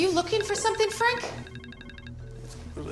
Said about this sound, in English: it's music coming from my personal phone